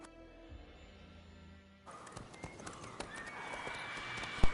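Roach, a horse in The Witcher 3 video game, gallops with rhythmic hoofbeats and a whinny, sounding close and fairly loud over a steady game background, with no talk.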